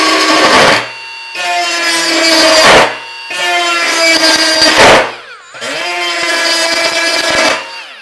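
A Milwaukee M12 Fuel right angle die grinder with a burr bit runs in four loud, close bursts of high-pitched whining, each lasting about two seconds and separated by brief pauses as the motor spins up and down.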